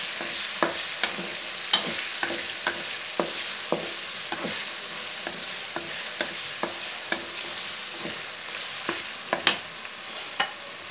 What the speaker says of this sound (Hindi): अब हम इसमें डालेंगे 1 टेबलस्पून लहसुन का पेस्ट और अच्छे से मिक्स कर देंगे